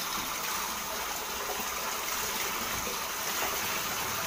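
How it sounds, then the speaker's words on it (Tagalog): Strong faucet water gushes continuously while laundry is rinsed, a steady close-up rushing hiss with no pauses throughout. "malakas po kasi ang gripo"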